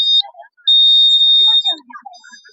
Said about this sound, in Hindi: इसके सामने कोई ऑब्जेक्ट आता है तो ये वर्क करता है, बजर मारता है।